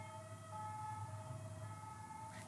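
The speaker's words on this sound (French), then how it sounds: "Incroyable, incroyable les sirènes" Emergency vehicle sirens wail outside, faint and distant with steady tones, over a low hum.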